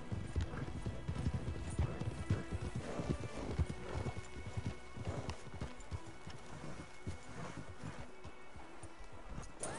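Horse hooves clip-clop in a steady, uneven rhythm on hard ground in Red Dead Redemption 2, fairly close, with a brief whinny and some low rumbling behind.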